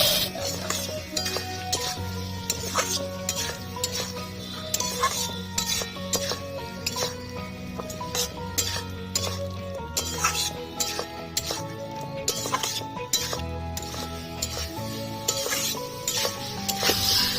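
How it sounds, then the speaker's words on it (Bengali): Fried jackfruit and shrimp stir-fried in spiced oil, with continuous scraping of a utensil against the pan, clinks and a low sizzle in a busy rhythmic pattern, with faint background voices. "দিয়ে দিচ্ছি ভেজে রাখা এঁচোড় ভেজে রাখা চিংড়ি মাছ আবারও কষিয়ে নেবো"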